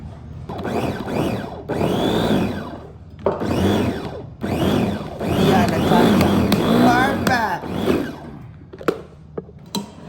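An electric food chopper whirs through chicken and vegetables in several loud bursts of a few seconds each, separated by short pauses, with a few quick pulses at the end.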